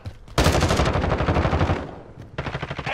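Loud, rapid automatic gunfire in the Call of Duty Warzone video game, a long sustained burst followed by a short pause and another stream of shots.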